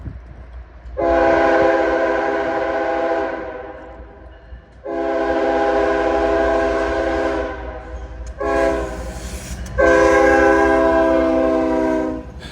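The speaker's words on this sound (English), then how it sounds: "the Norfolk Southern geometry train decided to pay Greenville a visit" Norfolk Southern geometry train passing through Greenville, South Carolina, sounding loud, close horn blasts in a sequence of long and short blows over a low rumble of the rolling train.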